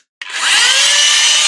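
Small Chinese blower-style vacuum switching on to cool a PS5 console, spinning up from silence into a loud, steady high-pitched whine with a faint tonal hum, close and alone.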